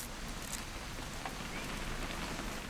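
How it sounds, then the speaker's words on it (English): Steady rain falling in the game What Remains of Edith Finch, a constant even hiss of drops with a few faint patters standing out, moderately quiet and unbroken. "It's gonna rain the whole weekend, isn't it?"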